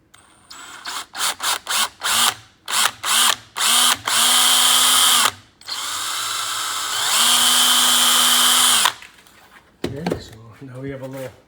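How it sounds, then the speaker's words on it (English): Power drill boring a hole in a plastic water bottle for a kayak stern light, a series of short loud bursts followed by longer sustained whirring runs, with speech at the end. "And drill that right there."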